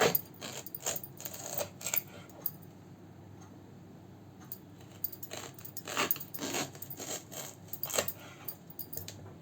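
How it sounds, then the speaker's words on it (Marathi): A knife slicing raw bananas at a slant into thick pieces, cutting through peel against a board; sharp close taps and crunches come in irregular clusters with quiet gaps between. "थोडेसे असे तिरकी केळी कापून घ्यायची आपल्याला सगळी या पद्धतीनं."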